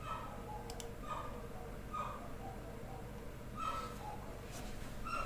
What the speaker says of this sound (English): When the bird starts making a lot of noise,